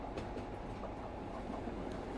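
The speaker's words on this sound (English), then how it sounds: "Now a red passenger train goes by in the opposite direction." A red passenger train passes on the tracks, producing a steady, dense rumble with faint rhythmic clacking throughout.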